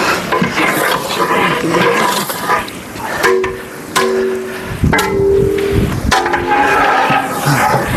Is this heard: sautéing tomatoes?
yes